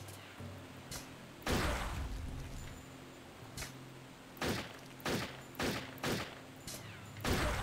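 Gunshots in the video game Turok 3 ring out about a dozen times, sharp and loud, first spaced apart and then in a quicker run of single shots over low ambient game noise.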